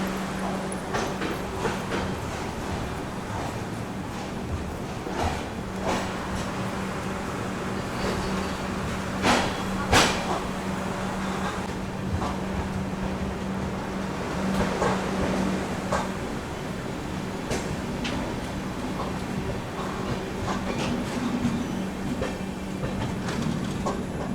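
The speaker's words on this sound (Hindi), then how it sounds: "चलिए निकल गई अपनी ट्रेन जो है कामाख्या जंक्शन से" The Donyi Polo Express pulls out of Kamakhya Junction with a steady rumble of rolling stock and rhythmic clickety-clack from the wheels over rail joints, loud and continuous throughout.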